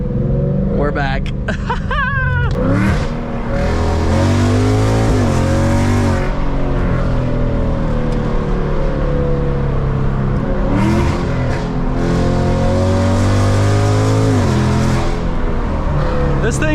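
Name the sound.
2024 Ford Mustang GT revving with full aftermarket exhaust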